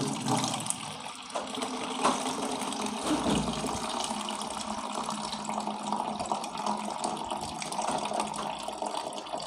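Water with cow dung cake pieces is poured through a strainer into a bowl, a steady close gushing and splashing that runs without pause.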